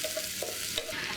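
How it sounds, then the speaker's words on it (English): Shallots frying in hot oil in a pan for Balinese vegetables, a steady broadband sizzle with faint stirring scrapes, close and continuous for about a second with no voices. "I'm going to add the shallot. Fry it until slightly brown."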